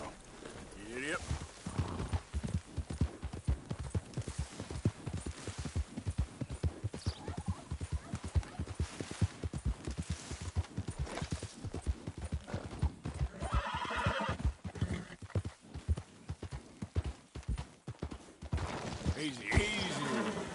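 A horse in the Red Dead Redemption 2 video game trots along with steady, rhythmic hoof clip-clops and an occasional neigh, and a rider's voice speaks over the hoofbeats.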